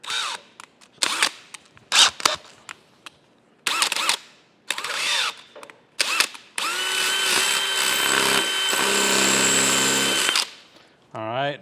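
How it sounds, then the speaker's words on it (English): A letter F drill bit bores into metal while a Monarch lathe is being repaired. Short bursts of the power tool come first, then one long, steady whirring run before it winds down. "I've got a letter F drill bit in here."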